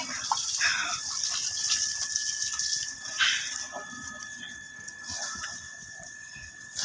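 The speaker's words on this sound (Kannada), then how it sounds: "ಈಗ ತೊಳಿಲಿಕ್ಕೆ ಏನೋ ನೀರು ತುಂಬಿಸ್ತಿದ್ದೀನಿ" Water pours steadily from a tap or hose to fill a container for washing down a house compound, a continuous moderately loud gush with a faint high tone running through it and some background noise.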